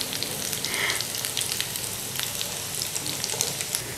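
Potato kababs sizzling in a frying pan of oil, a steady close crackling hiss dotted with small pops and spits that continues evenly throughout, with no voices.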